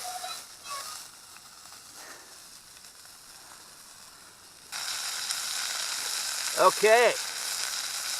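Steak frying in a pan over a campfire in the desert, with a faint sizzle that swells to a louder, steady hiss partway through. A few brief clanks are heard, and a voice speaks briefly.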